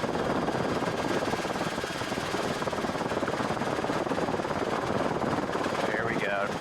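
A Rotorway kit helicopter's engine and rotor roar steadily and loudly in the cabin during a training flight, with voices talking over the constant drone.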